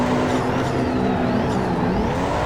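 A Nissan 180SX with 580 horsepower drifts downhill on a Japanese circuit in Assetto Corsa, its engine roaring loud and steady with a droning whine and squealing tyres throughout, no talk.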